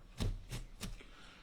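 A knife chops an onion on a board in three distinct, evenly spaced thuds, close and fairly soft, with no talking.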